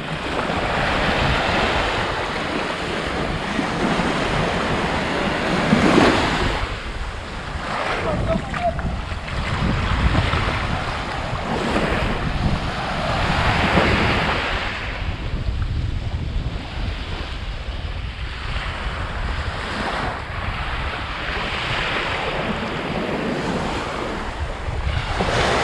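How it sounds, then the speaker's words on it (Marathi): Sea waves rolling onto Devgad beach on the Konkan coast, a loud continuous wash of surf rising and falling, with strong wind buffeting the microphone. "आणि पाणी लाटा ज्या येत आहेत त्या खेचणार आहेत."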